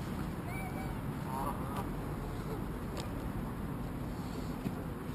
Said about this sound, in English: We have Canadian geese.